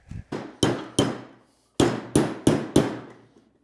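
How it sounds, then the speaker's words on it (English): A hammer strikes a part being seated into an 80 Series transfer case during a rebuild, eight sharp metallic blows: three spaced hits, a pause, then four more in a steady rhythm, close and loud. "Switch to a real hammer."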